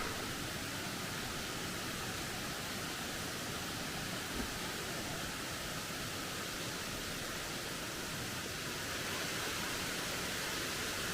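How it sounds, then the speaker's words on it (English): Opossum Creek Falls pours in a constant, even roar of rushing water, a broad hiss with no variation or voices, heard from fairly close on a hiking trail. "I have made it to Opossum Creek Falls."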